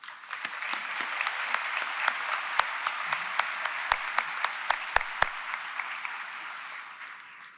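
An audience at a Ferris State University fall 2024 commencement ceremony gives sustained, even applause, a dense wash of many hands with occasional sharper individual claps, fading out at the close.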